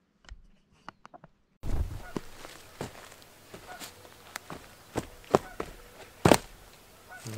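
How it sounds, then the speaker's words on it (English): Loud geese by a lake give scattered, sharp honks at irregular intervals, some close and loud, with rustling footsteps between them. "These birds out here, I believe those are geese. They're loud, man."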